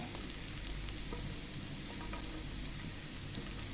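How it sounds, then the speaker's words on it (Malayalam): Onion, green chilli, ginger and garlic sauté together in leftover fish-frying oil for pearl spot, giving a steady, close, dense sizzle with faint stirring clicks throughout, no voices. "ഉള്ളിയും പച്ചമുളകും ഇഞ്ചിയും വെളുത്തുള്ളിയും എല്ലാം ഒരുമിച്ച് തന്നെ ഇട്ട് കൊടുക്കുകയാണ്."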